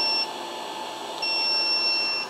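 A high, steady electronic warning tone sounds twice from a Junbpaw 3080W 12V inverter under overload near 3,050 watts, a long beep that stops briefly and then resumes, over a constant hum of machinery.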